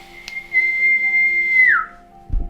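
A single sustained whistle tone held steadily for over a second, then sliding down in pitch as it ends, loud and close, with a brief knock just after.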